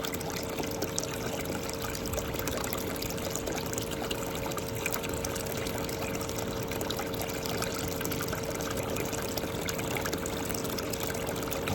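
Water runs steadily through a gold panning sluice mat, a continuous close wash of trickling and rushing flow with no pauses and no voices.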